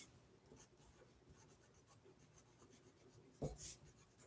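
A pen scratches across paper in continuous soft strokes while someone works through a probability lesson, faint and close, with a louder scrape near the end.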